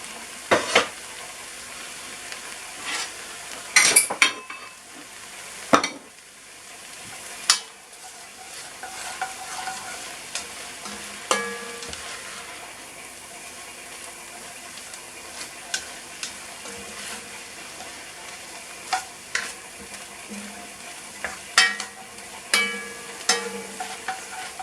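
Red onion and celery frying in a pan with meat and oyster mushrooms, a steady close sizzle broken by repeated stirring scrapes and clacks of a utensil against the pan.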